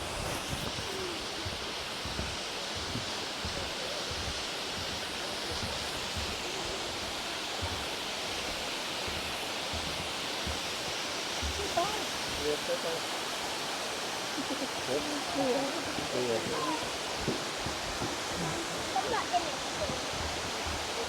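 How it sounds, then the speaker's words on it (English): A waterfall on a hiking trail pours in a steady, even roar of rushing water that holds unbroken throughout, fairly soft and constant with no clear pauses. "I think this is the prettiest waterfall compared to all the three."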